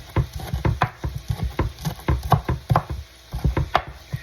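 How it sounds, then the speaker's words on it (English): A knife taps rapidly against a cutting board in an uneven rhythm, close and fairly crisp, chopping parsley with no voices. "We're going to cut up some parsley."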